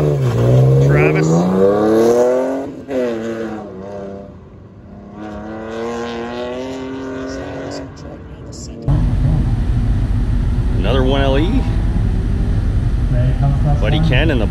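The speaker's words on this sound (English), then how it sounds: "Always love the crackle from the exhaust of the newer models." A Chevrolet Camaro 1LE at an autocross revs hard, its engine note sweeping up and down before settling into a loud, steady roar, with voices talking over it.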